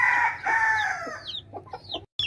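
A hen clucks and squawks close by in short, uneven bursts, with brief pauses between calls.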